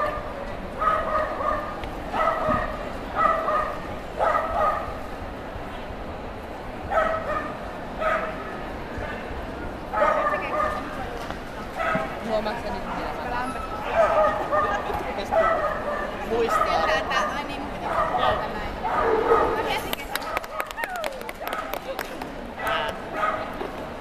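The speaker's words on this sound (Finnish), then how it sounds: "Tosi iloinen toi koira." An Alaskan Malamute yips, barks and whimpers in repeated bursts close by for over twenty seconds, while people talk in the background.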